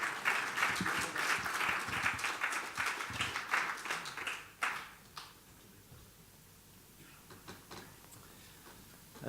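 Dinner guests at the 2018 Royal Cocoa Festival keep applauding Andrew Whiting of Beech's Chocolates: dense clapping for about five seconds that thins to a few scattered claps, then falls to quiet room tone.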